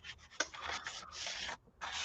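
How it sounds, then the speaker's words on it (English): Scratchy back-and-forth sanding strokes on parchment paper, several quick rubs then longer ones, close and fairly quiet with no talking. "Sanding my parchment paper too."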